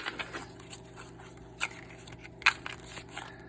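A Paulina Cassidy tarot deck is shuffled by hand close by, giving faint, soft papery patters and a few sharper card snaps in an otherwise quiet room.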